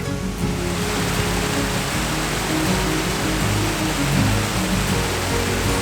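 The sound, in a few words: waterfall flowing over wet rocks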